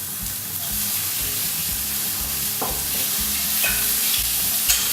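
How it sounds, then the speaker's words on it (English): Onions and prawns sizzle loudly in a hot pan, the frying hiss continuous while a spoon stirs and scrapes, with rhythmic knocks against the pan and no voices. "Let that sizzle and then you add in your prawns straight away."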